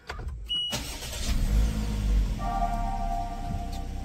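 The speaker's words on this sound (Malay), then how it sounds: "sekarang kita cuba start engine" A 2022 Perodua Alza engine cranks and starts, then settles into a steady idle hum nearby, with a brief warning chime partway through.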